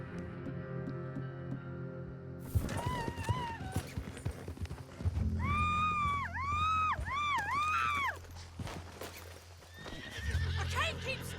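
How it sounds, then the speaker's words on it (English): A horse in Red Dead Redemption 2 whinnies loudly several times over steady clip-clopping hooves, with scattered bumps and rustles between the calls. "Oh, come on, horse."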